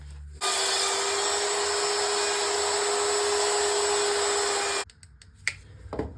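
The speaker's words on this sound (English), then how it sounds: "We are done routing." A router with a half-inch bit cuts a neck pocket in a solid-body electric guitar, giving a loud, sustained high whine that runs for about four seconds, then stops abruptly, followed by a few faint clicks and handling noises.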